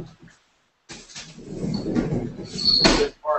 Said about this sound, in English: Here, go around and close the door.